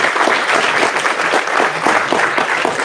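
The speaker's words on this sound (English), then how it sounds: "Please hold your applause so we can get through as many questions as possible." Loud, sustained audience applause during a political debate, thick continuous clapping from a crowd close by that stays steady throughout.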